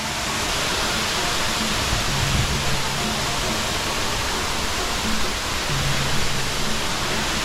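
Banyu Wana Amertha waterfall in Bali roars as a dense, constant rush of falling water, loud and unbroken throughout.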